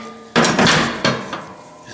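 A hammer strikes a punch during repair work on a Fairbanks Morse 3HP ZC engine. Two loud, close metallic blows ring out about two-thirds of a second apart, each with a short ringing decay.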